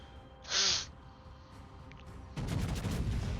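A Montana battleship fires its guns in a naval video game, with a sharp bright blast followed by a lull and then a louder rumbling volley of heavy shots.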